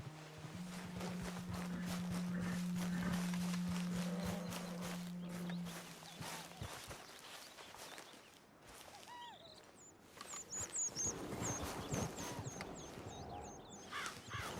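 Horse hooves clip-clopping in the western video game Red Dead Redemption 2, a steady rhythmic patter under a low droning tone at first, later joined by chirping birds in the background.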